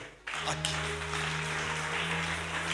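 A church congregation bursts into loud applause and cheering for Jesus, a dense wash of clapping that starts abruptly and holds steady, backed by a sustained organ or keyboard drone.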